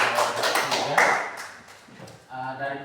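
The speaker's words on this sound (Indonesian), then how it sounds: "Baik, kita berikan aplaus." Students in a Class X mathematics classroom clap briefly for a student group, a short burst of scattered hand claps that fades and then picks up again at the end.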